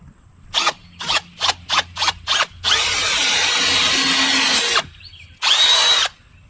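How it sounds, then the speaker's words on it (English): A power drill gives a string of short rapid trigger bursts, then bores steadily into plastic patio furniture for about two seconds, pauses and whines once more, loud and close with no talk. "I'm going to drill a couple holes in this right into the plastic."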